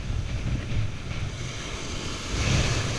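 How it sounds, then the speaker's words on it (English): Strong wind of about 30 miles an hour roars across a beach while surf rushes and breaks, forming a steady, loud wash of noise with no pauses. "The wind's going about 30 miles an hour."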